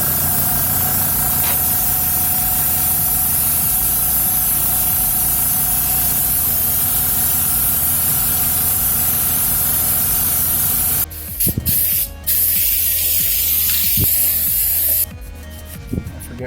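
An aerosol can sprays red paint onto PC case parts in a long, loud, continuous hiss, broken near the end by short pauses and quick bursts.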